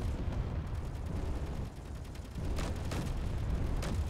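Artillery turrets firing at incoming drones in the game Space Engineers, a continuous rumbling barrage with rapid repeated booms that grow denser and louder toward the end.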